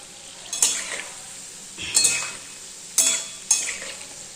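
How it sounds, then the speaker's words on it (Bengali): Palm fruit fritters fry in oil while a metal spatula scrapes and stirs in the pan, with four distinct bursts of clinking and sizzling spaced a second or so apart. "তালের বড়া ভাজা হচ্ছে"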